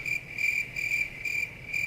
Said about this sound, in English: Oh good, the crickets are back.